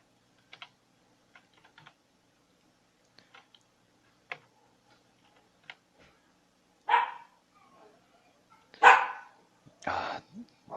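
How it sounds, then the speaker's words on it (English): A dog barks several times, loud and close, in short sharp bursts, after a stretch of scattered light clicks like keyboard typing, as street dogs set it off. "I always don't like when Julie starts barking because of the dogs from the street we live."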